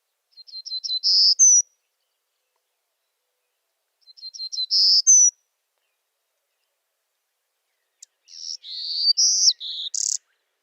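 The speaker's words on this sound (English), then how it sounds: "Here's the golden-cheeked warbler, a Texas breeding endemic." A golden-cheeked warbler, a small songbird, sings three buzzy, high-pitched phrases, each rising through quick notes to a sharp ending, with clear pauses between them.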